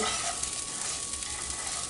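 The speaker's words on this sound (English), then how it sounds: "Stir that around." Steady frying sizzle with soft scraping as food seasoned with cumin and salt is stirred around a cast iron frying pan, continuous and fairly quiet.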